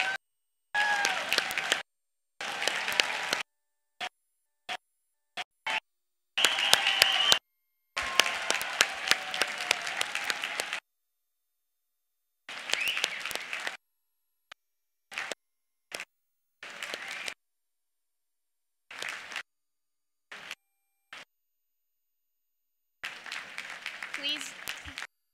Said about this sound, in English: rise and join me in applauding this graduating class for their exceptional work and accomplishments